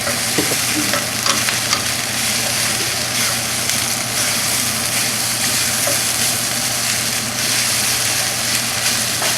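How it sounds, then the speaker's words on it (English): Sous vide flank steak fajita taco filling is stirred in a hot pan, a continuous close sizzle and frying hiss with scraping stir strokes throughout, no voices. "Mix it all together."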